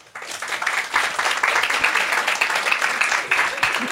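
Live audience in a hall bursts into applause, dense and continuous clapping with a few shouts swelling in after a brief quiet start.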